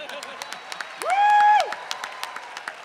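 A live storytelling-show audience claps and cheers, with scattered claps around a single loud whoop from one person partway through.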